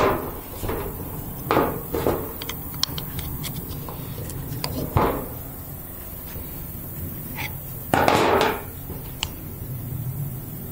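Hammering a bushing out of a John Deere 310D loader bucket cylinder, irregular metal blows and knocks spaced a second or two apart with one heavier scraping burst, close with no talk.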